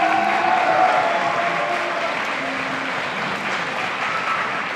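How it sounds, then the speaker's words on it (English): A crowd at an athletics awards ceremony gives a loud, sustained round of applause for Coach Tom Weinberger. The clapping stays dense and even throughout, with a little crowd murmur underneath. "Please give a round of applause for Coach Tom Weinberger."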